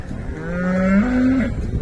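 A single cow moos loudly and close by at a Sunday livestock market in Neknur, Beed. It is one drawn-out call of about a second that rises in pitch, over faint background noise and with no talk.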